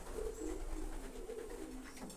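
Pigeons coo at the nest, with low, soft, repeated throaty calls over a constant background rumble, fairly close and without any talk.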